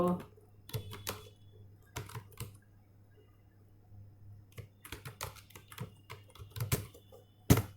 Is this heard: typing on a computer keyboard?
yes